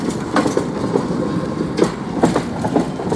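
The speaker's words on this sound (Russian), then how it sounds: "Тридцать третий трамвай." A Kyiv number 33 tram rolls past close by, its wheels knocking in an irregular clickety-clack rhythm over a steady rumble.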